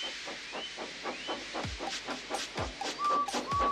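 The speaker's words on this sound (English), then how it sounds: "So they lit his fire, made lots of steam, and Edward puffed away." A steam engine chuffs in a steady rhythmic pattern of hissing puffs, with a couple of short whistle tones toward the end.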